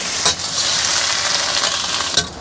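Garlic chive flowers stir-fry with ginger oil in a wok, giving a loud continuous sizzle broken by a couple of sharp scraping tosses near the start and end, with no talk.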